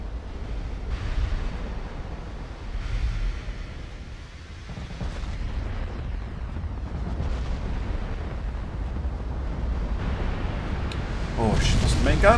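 A warship exploding in Ultimate Admiral Dreadnoughts, heard as a continuous deep rumbling roar of explosions and sea noise that swells with a louder burst near the end, with someone talking over it.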